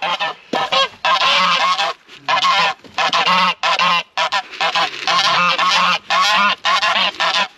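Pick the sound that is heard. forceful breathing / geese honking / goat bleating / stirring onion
geese honking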